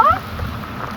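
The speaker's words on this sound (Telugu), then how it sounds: "ఎంత వర్షం" Heavy rain pours down in a dense, steady hiss for about a second, loud and close.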